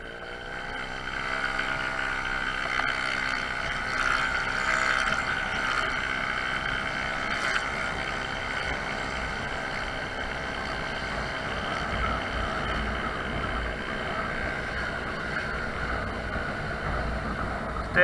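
A Honda Zoomer scooter rides at about three-quarter throttle, giving a continuous, steady engine drone with a strong whining tone throughout, close and fairly loud, with no talking.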